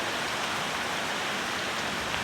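Heavy afternoon rain pours down in a dense, even hiss that stays constant from start to finish, with no voices present.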